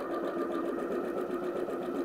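A sewing machine stitches satin and lace together for a satin cap, running in a steady continuous whir with no pauses, close and moderately loud, with no talking.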